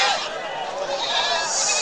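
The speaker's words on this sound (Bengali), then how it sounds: "দেখেন অসংখ্য ছাগল" Black Bengal goats at a crowded village goat market bleat in a short, close burst over a dense background murmur of the animals and the market.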